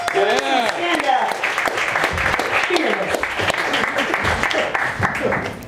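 A comedy-club audience applauds a stand-up comedian as he takes the stage, steady clapping and cheering throughout with voices mixed in.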